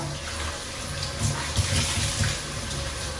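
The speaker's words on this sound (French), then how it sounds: "on va rincer le plan de travail" Water from a tap runs steadily to rinse a natural stone kitchen countertop during cleaning, a continuous wash that stays at an even level and swells slightly in the middle, with no talking.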